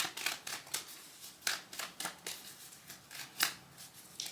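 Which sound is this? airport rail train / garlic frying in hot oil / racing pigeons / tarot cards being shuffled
tarot cards being shuffled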